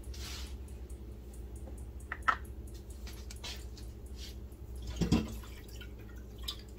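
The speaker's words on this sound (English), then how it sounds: "Sorry, I had some water ticking in the background." Faint water dripping from a tap in a home kitchen, a few scattered soft drips and squishy drops against a low background hum, with no talking.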